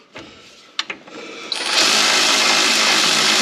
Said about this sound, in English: So what I'm doing is taking that stop nut off now.